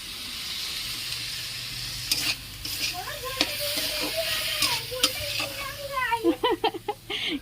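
Chicken sizzles and fries in a pan while being stirred, a steady hiss with scraping clinks and a voice talking over it near the end.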